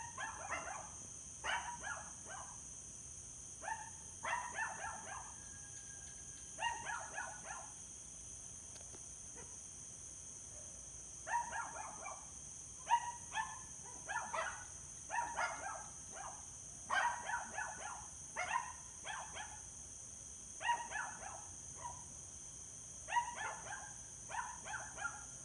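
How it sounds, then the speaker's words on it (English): Dogs bark in repeated bursts at a distance over roughly twenty-five seconds, with quiet gaps between volleys and a constant high insect or cricket drone in the background. "after about half an hour, the dogs were still barking"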